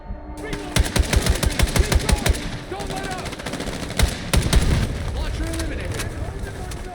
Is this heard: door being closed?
no